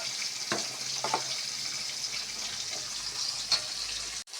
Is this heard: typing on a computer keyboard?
no